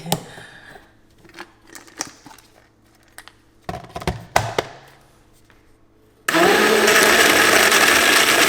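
Scattered taps and clinks for several seconds, then a blender kicks on loud and whirs steadily to the end.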